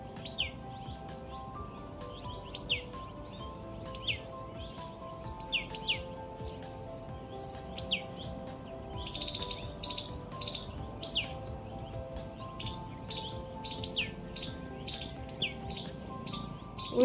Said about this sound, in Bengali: ওই দেখুন এর ভিতর থেকে একটা পাখি কি সুন্দর ডাকছে